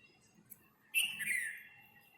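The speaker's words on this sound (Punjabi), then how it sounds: "ਬੁਲਬੁਲ ਕਹਿੰਦੇ ਇਹਨੂੰ" A single bright bulbul call rings out close by, a brief rising whistle and warble after a faint chirp, then quiet.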